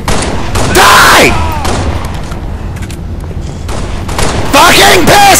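Pistol fire in the Halo video game, with several sharp shot bursts in quick clusters, loud and close, while someone shouts over the gunfire.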